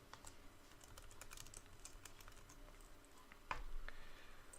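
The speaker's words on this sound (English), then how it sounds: "type in hello world" Quick, light keystrokes on a computer keyboard patter in short irregular bursts, close and fairly quiet, with one sharper key press standing out near the end.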